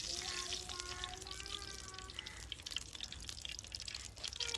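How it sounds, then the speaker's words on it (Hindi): Ghee poured into a hot cooking pot for a dhaba-style aloo keema, a soft continuous pour with gentle hissing and faint drips, heard close but quiet, with distant tonal sounds in the background. "इसमें घी डाल दिया जाएगा।"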